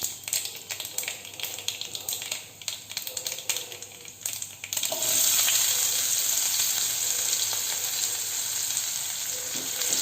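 Chopped onions hit hot oil with mustard seeds and urad dal for a Hyderabadi eggplant masala. Scattered crackles and stirring clatter give way halfway through to a loud, steady sizzle of frying, close up, with no voices.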